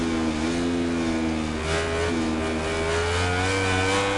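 Racing motorbike engines in MotoGP 19, loud high whining revs with gliding pitch climbing through the gears, several bikes close together, engine noise alone without talk.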